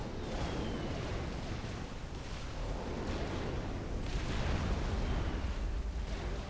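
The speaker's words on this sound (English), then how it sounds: "The next missile impacted the hill." Missiles strike a hill in Supreme Commander: Forged Alliance, producing dense, rumbling explosions that blend into a continuous roar of blasts at steady loudness, without talk.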